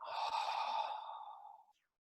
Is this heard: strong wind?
no